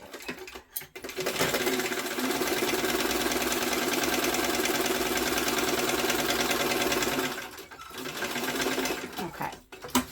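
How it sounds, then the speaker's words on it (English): Sewing machine top stitching along the top edge of a backpack pocket, a steady fast mechanical whir running several seconds, stopping briefly, then resuming before a final pause. "I'm just gonna top stitch at the top to give it a nice edge to the top of the pocket"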